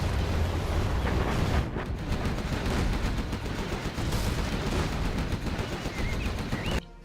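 A strategy video game battle with dense, continuous gunfire and artillery: rapid overlapping shots and heavy booms form a loud, unbroken barrage that cuts off abruptly at the very end.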